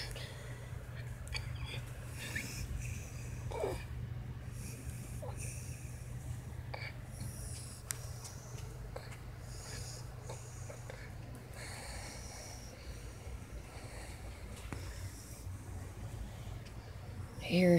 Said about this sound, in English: I hear her snoring. She gets louder usually.